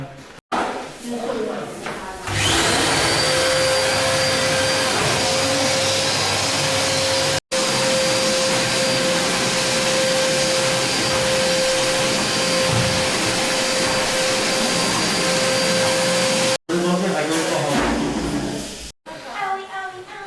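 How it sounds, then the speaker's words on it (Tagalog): A vacuum cleaner runs loud and steady with a high whine during general cleaning, switching on after a couple of seconds and cutting off near the end, with people talking over it. "Vacuum tayo."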